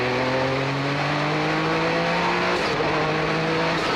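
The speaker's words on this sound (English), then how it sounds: "it's Canepa out front in the 962" A 1990 Porsche 962 race car passes on track at speed, its engine a loud, close howl that drops in pitch as it goes by.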